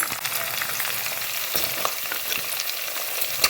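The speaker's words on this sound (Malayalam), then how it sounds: "ഇനി നമുക്ക് അരിഞ്ഞ് വെച്ചിരുന്ന നാരങ്ങ ഇടാം" Chopped lemon going into hot oil with kanthari chillies for a pickle, a bright, even frying sizzle with a few soft stirring taps, close and steady, no one speaking.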